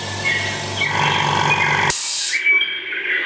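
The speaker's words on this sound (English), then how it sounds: "So we've got the compressor here. We'll just start that up. Fairly quiet for a compressor." An air compressor starts and runs with a loud mechanical drone, then a sharp burst of hissing air cuts in before the motor settles into a quieter steady hum.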